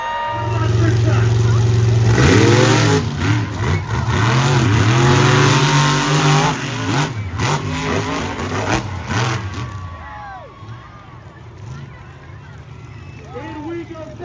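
Monster trucks Big Brother and the Kraken race head-to-head at an arena show in Savannah, engines roaring and revving loudly in rising bursts before fading, with an announcer calling over the noise.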